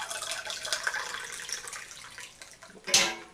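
One cup of hot water poured for bread dough, a soft, steady splashing trickle that ends with a brief brighter splash, close and quiet with no talking.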